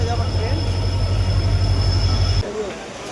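A train rolls past close by at Nashik Road station in Maharashtra, making a loud, heavy rumble with wheel hum and squeal that cuts off abruptly near the end.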